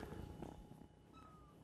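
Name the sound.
kitten meowing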